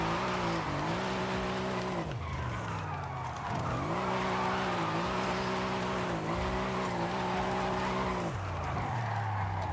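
Forza Horizon 5 car drifting through a tight, narrow course: a steady engine drone with wavering pitch as it revs and slides, tire squeal running through, and a short break where it briefly cuts out before resuming.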